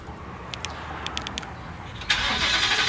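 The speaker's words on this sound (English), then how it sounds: "Let's get this cold start." A Ford S550 Mustang with the 5.0 Coyote V8 cold-starts: several short starter clicks, then the engine catches with a sudden loud burst that settles into a steady high idle.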